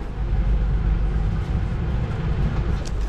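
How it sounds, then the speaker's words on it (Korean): Inside a second-class passenger train in Jakarta, Indonesia, a steady low rumble and rolling drone fill the carriage, loud and continuous with faint rattles and no talking. "이게 2등급 클래스 기차입니다."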